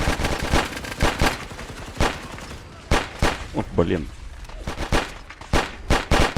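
Kalashnikov rifle fire in modded Fallout 4 cracks in loud, rapid bursts and single sharp shots, irregularly spaced, with a voice briefly talking in the middle.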